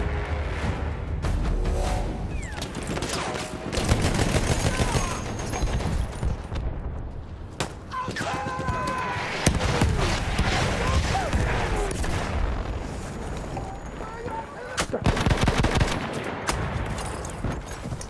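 Battlefield Rush mode combat with sustained machine gun fire, rattling bursts and overlapping volleys continuing without pause, with distant booms and battlefield chatter layered underneath.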